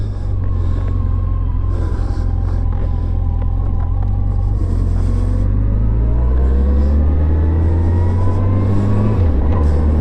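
A 2007 Yamaha FJR motorcycle with a replacement engine cruises on a highway, its steady loud engine drone and heavy wind rumble filling the ride, with the engine note shifting slightly near the end.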